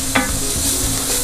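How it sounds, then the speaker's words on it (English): Onions softening in a pot as the base for a pork ragout, a steady soft sizzle with a brief scrape of a stirring utensil near the start. "And we just want to cook this down until those onions start to soften up a little bit."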